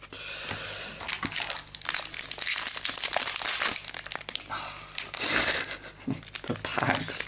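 Crinkly foil wrapper of a Pokémon Guardians Rising booster pack being torn open by hand: loud, close, continuous crackling and rustling with sharp crunches, stretching on for several seconds under brief talk.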